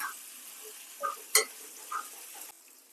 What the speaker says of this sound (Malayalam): ഒന്ന് ഇളക്കി കൊടുക്കാം പച്ചമുളകെല്ലാം ഒന്ന് വഴണ്ടി വരട്ടെ